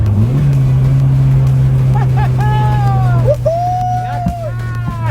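A Nissan Silvia S14 drift car engine drones loudly and steadily nearby in Texas while people talk excitedly over it.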